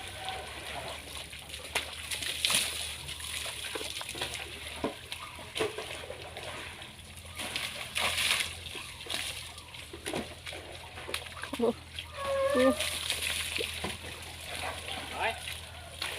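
Water splashes and sloshes repeatedly during an outdoor bath from a water tub, the irregular splashes mixed with frequent talking and background noise.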